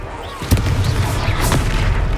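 A Confringo blasting spell explodes in the Hogwarts Legacy video game, a deep booming burst with rumbling low crackle that rolls on loudly, with a second blast-like surge shortly after amid ongoing battle noise.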